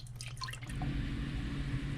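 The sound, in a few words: pouring organic vegetable stock into sauteing vegetables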